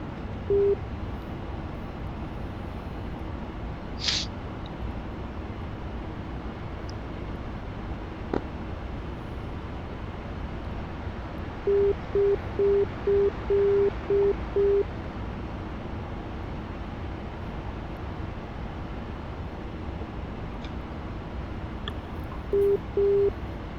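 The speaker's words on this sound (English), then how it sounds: "Doesn't help I got the tag in back here beeping away at me too." Short electronic beeps from a tag in the back, in quick clustered bursts like Morse code, sound over a steady engine and road hum during practice for an F4 pop-up dive toss, with a few more beeps near the end.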